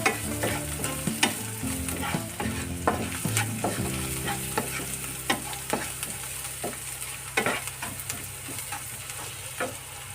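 Ivy gourd stir-fries with onion and turmeric in a pan: a continuous close sizzle with frequent rhythmic spatula scrapes and taps running throughout, no voices over it.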